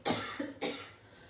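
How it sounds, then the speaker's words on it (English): Two short, dry coughs in quick succession, close by and alone, the second slightly stronger than the first. "It's just this weird dry cough."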